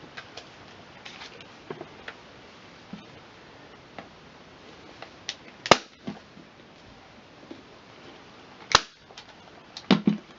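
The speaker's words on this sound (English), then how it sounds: "I am going to staple it around" Fabric is stapled onto a small trash-picked footstool, giving a scattered series of sharp staple clicks at irregular intervals, with several louder snaps near the end over a quiet background of handling noise.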